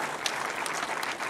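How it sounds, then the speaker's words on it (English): A short burst of applause at a film panel event, steady clapping from a small audience with no pauses. "Give her a nice applause."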